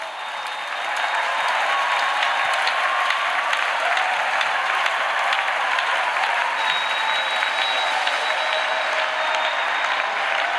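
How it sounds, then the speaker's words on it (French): A church congregation claps steadily as an offering to Jesus, a dense, continuous roar of applause from a large crowd that holds at an even level throughout. "Clap offering to Jesus."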